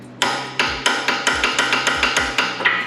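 Torque wrench tightening the outer rear spring bolt on a BMW G82 M4 to 165 Nm, giving about ten sharp metallic clicks in a steady, quick rhythm, close and loud with no talking.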